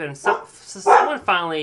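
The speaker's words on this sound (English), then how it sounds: "that's my dog barking" A pet dog barks several times in short, sharp bursts nearby indoors, each bark fairly loud with brief gaps between, while a person talks over it.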